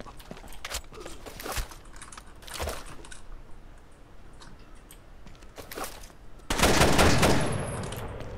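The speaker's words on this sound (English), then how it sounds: "Got a machine gun in front of us." Machine gun fire in the tactical shooter Rainbow Six Vegas 2 cracks out in scattered short bursts, then one long, loud, sustained burst near the end.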